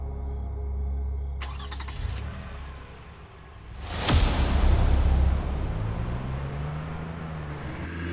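A car engine starts and surges at about four seconds, then holds a loud rushing roar as the vehicle speeds along, following quieter background hum.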